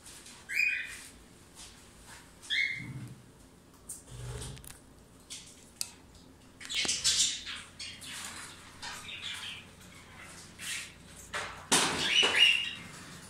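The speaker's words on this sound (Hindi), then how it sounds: "अभी जो पैरोट्स या जो भी बर्ड्स मेरे पास अवेलेबल हैं उसकी भी ब्रीडिंग प्रोग्रेस आपको दिखाते हैं।" Parrots, cockatiels and budgies call from a breeding aviary with scattered chirps, squawks and short whistles coming in separate bursts, some close and loud, others faint, over a quiet background with low clunks.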